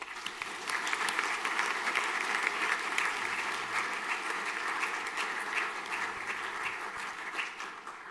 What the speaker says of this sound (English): A round of applause there, please.